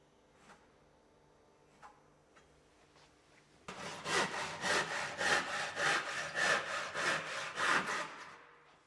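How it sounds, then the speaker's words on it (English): Handsaw cutting waste wood from the horns at the head of a window frame: a few faint knocks, then a steady run of rhythmic back-and-forth rasping strokes, close and clear, with no talk. "remove the waste material with a handsaw"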